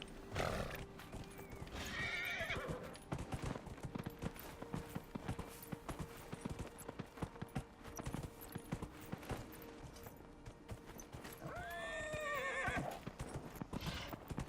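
A video game horse whinnies loudly, with clip-clop hoofbeats running steadily underneath, then a second whinny rings out near the end.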